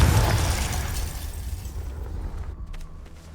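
A Confringo fire spell explodes in Hogwarts Legacy, a loud booming burst at the start that rumbles and decays over a few seconds with faint debris crackle.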